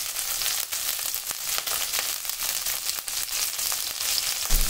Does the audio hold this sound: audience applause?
no